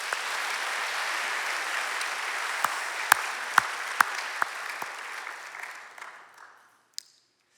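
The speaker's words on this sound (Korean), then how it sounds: "표정으로 우리 박수로 하나님께 한번 영광 돌리고 말씀드립니다." A church congregation at a New Year blessing revival service breaks into dense, sustained applause that holds steady, then thins to a few scattered claps and fades to silence.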